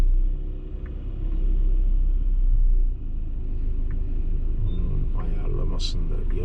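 An electric trolleybus running on overhead wires passes on a street in Switzerland, a deep continuous rumble swelling and then easing, with faint light clicks and traffic noise around it.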